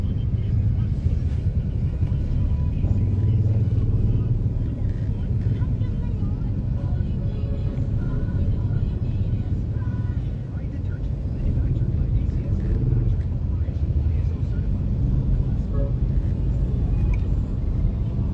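Car traffic on a congested road, a steady low rumble of engines that runs continuously and fairly loud under people talking nearby.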